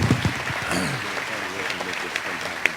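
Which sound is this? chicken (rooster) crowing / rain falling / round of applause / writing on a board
round of applause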